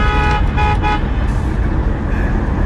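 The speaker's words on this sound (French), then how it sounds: "Attends, on va klaxonner." A car horn honks in several short bursts over steady road and engine rumble, then fades out while traffic noise continues.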